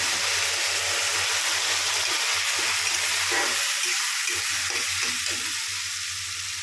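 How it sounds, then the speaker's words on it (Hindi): Onion and curry leaves fry in a hot pan, a loud steady sizzle and crackle that stays close and continuous with faint stirring scrapes and no talking. "अब प्याज और कड़ी पत्ता भुन गया है"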